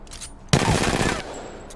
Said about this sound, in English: R45 is actually one of the best hip firing weapons.